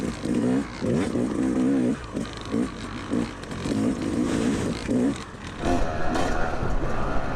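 A two-stroke Yamaha YZ250X dirt bike engine revs hard while riding off-road over rough terrain, pulsing throttle bursts rising and falling close by, with clatter and scraping from the bike.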